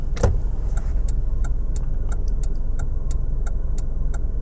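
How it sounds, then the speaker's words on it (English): The turn indicator of a 2001 Mazda 626 ticks steadily at a regular, fairly quick rhythm, close and crisp over a constant low cabin or engine hum. "Being a slightly later Japanese car, we have indicators on the left."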